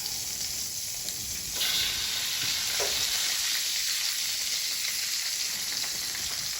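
Eggs cracked into a pan for a vegetable stir fry sizzle and fry steadily throughout, a continuous bright hiss with a brief louder burst of spitting partway through and no talking.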